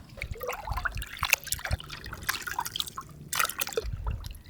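Hands squeezing and swishing tamarind pulp in a bowl of water, soft wet squelches and drips in an irregular rhythm, close and fairly quiet, with no talking.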